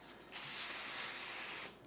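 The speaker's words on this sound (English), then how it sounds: "I'm gonna hit the tin foil with some extra virgin olive oil spray" Extra virgin olive oil cooking spray hisses onto tin foil outdoors in one short, even burst lasting just over a second.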